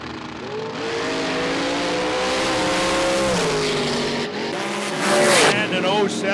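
A drag racing car at Luskville Dragway rips down the strip, its loud engine tone rising steadily and continuously as it accelerates, with an announcer talking over the roar.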